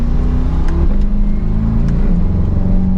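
A 2023 Chevrolet Corvette 3LT 70th Anniversary driving around a roundabout, its engine giving a steady close low growl with slight rises in revs, heard from inside the car.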